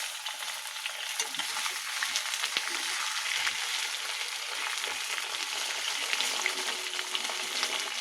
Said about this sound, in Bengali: আলু রসুন একদম ভাজা ভাজা হয়ে গেছে